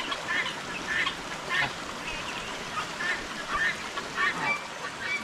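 Geese on a small farm honk repeatedly in a loose rhythm, several birds calling close by, fairly loud over a soft outdoor background.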